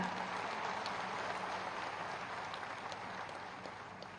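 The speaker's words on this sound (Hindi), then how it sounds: "एक बार जोरदार तालियों के साथ।" Applause from a ceremony audience unveiling smart city development projects, a dense sustained wash of many hands clapping, steady then gradually easing, heard from a distance with no talk over it.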